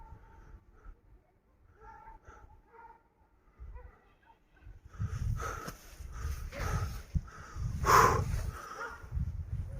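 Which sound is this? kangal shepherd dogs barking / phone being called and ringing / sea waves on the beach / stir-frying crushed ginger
kangal shepherd dogs barking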